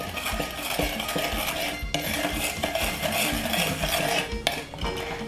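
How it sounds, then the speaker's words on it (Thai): A utensil scrapes and clinks against a bowl while stirring fish sauce, sugar and pickled garlic juice into a seasoning mix, steady close stirring with light metallic taps and no talking. "จากนั้นนะคะก็คนให้น้ำตาลละลายนะคะ"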